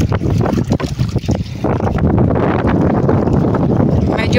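Loud, steady wind gusts batter the microphone over churning water, with a constant roar and no talking.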